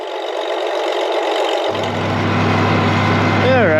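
A tractor engine that has not run in at least a month cranks and catches after a short starting attempt, settling into a loud, close, steady idle.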